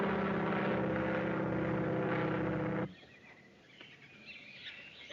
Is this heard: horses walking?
no